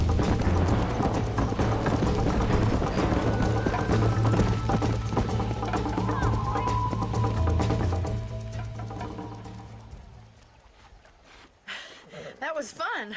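Rapid, rhythmic hoofbeats of a galloping horse in Red Dead Redemption, loud and close, that gradually fade away near the end, followed by brief faint movement sounds.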